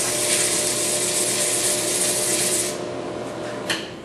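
Abrasive scrubbed up and down against a brake rotor during rotor machining gives a steady, close, raspy rubbing that continues loud for a few seconds, then eases off into a quieter scrape near the end.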